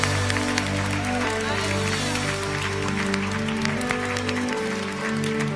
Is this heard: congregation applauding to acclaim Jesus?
yes